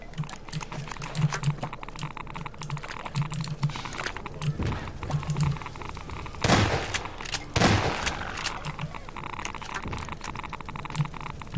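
Gunfire in Half-Life 2: Episode Two, a few sharp loud shots standing out among quick clicky taps, with a couple of bigger bursts near the middle.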